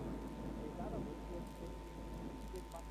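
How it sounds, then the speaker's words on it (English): Steady rain falling outdoors, a faint continuous patter and hiss with a low hum underneath, heard alone without speech. "If you can hear a noise, there is the rain."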